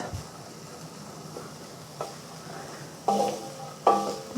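Onions cooking in avocado oil in a pan: a low, steady sizzle with a few louder scraping stirs toward the end, close by with no talk.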